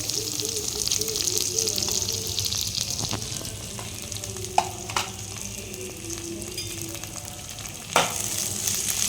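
Carrot and capsicum, finely chopped, frying in a pan with a steady soft sizzle and stirring scrapes, a couple of sharper clinks standing out near the middle and end.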